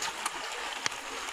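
Quiet, steady rush of flowing river water with a couple of faint splashes, no voices.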